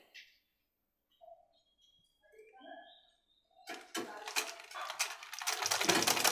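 A sewing machine stitches underwear fabric after a few quiet clicks and squeaks, its rapid mechanical whirr starting midway and building loud and steady to the end.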